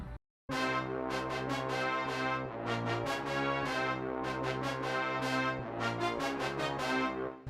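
A choppy, repeating trap beat with heavy bass hits and stuttering melodic stabs plays loud and steady after a brief silence.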